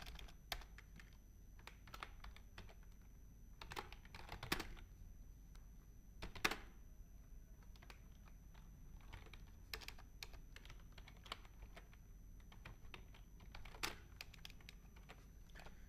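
Steady typing on a computer keyboard while entering text in MS Word, with soft, irregular key clicks and a few louder taps, quiet and close, continuing without any speech.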